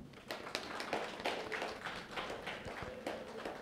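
An audience at a meditation event claps together, a soft, steady patter of many hands heard from a moderate distance and fairly faint, continuing evenly throughout.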